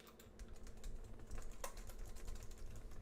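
Fingers tap out rapid, uneven keystrokes on a computer keyboard, close and moderately loud, with no voices over the clicking.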